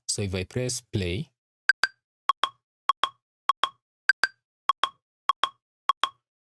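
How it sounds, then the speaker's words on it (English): A voice speaks briefly, then the Ableton Live metronome ticks alone in a steady, evenly spaced series of about ten sharp, faint clicks. "So our metronome is activated"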